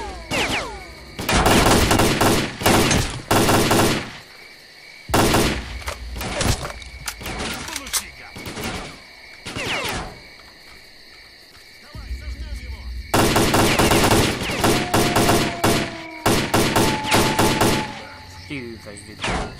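Gunfire in the shooter game S.T.A.L.K.E.R. Clear Sky: repeated loud bursts of automatic rifle fire, some rapid and sustained and others single cracks, broken by short lulls with faint ambient hum and insect-like chirping.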